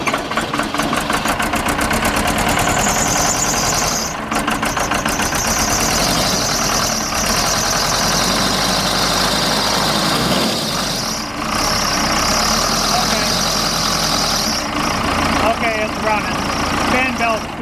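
Case 580 diesel engine running after injector pump priming, a close steady mechanical idle with knocking clatter that continues throughout under intermittent talk.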